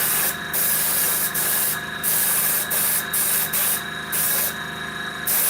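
Airbrush spraying paint onto a mold coated with PVA release agent, a continuous close hiss broken by several brief dips as the trigger is released and pressed again.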